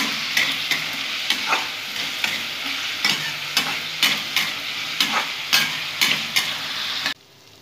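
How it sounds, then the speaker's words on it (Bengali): Green chillies frying in hot oil for suji upma, a loud steady sizzle broken by regular scraping strokes of a spatula about every half second, cutting off abruptly at the end. "কাঁচা লঙ্কাগুলো যেখানে আছে দেখো, এগুলো দিয়ে দেবো। ভালো করে ভেজে নেব।"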